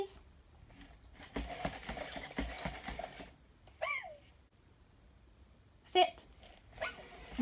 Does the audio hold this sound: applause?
no